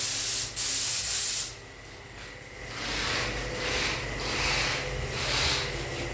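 PLATINUM clear lacquer sprayed from a spray gun, a sharp loud hiss that cuts off, then softer, wavering spray bursts rising and falling in long passes, no talk.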